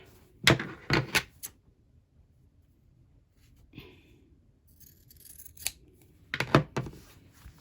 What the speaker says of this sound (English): I'm going to trim off this little bit of batting here